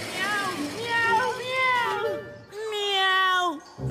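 A voice imitates a cat meowing in a French Garfield cartoon, giving a few drawn-out, rising-and-falling meows close up and fairly loud, with short pauses between them.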